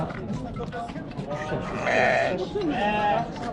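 Sheep and lambs bleat repeatedly at a busy livestock market in Kara-Balta, with several wavering calls rising over crowd chatter and people talking nearby.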